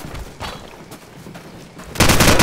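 Gunfire in the Call of Duty 4: Modern Warfare video game: scattered shots and bursts, ending in a loud sustained volley or explosion close by.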